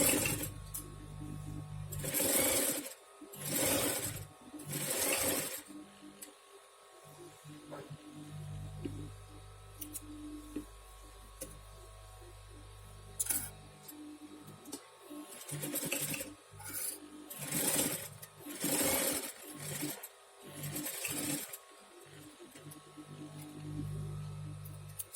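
A sewing machine stitches a seam on a vest, running in several short bursts separated by pauses, close and fairly loud, with handling and rubbing of fabric between runs.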